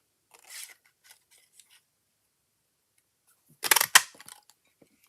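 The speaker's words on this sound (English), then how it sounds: "I'm going to cut it out." Scissors snip out a stamped paper card in a quiet room: a few faint short cuts at the start, then a louder burst of crisp snipping near the end.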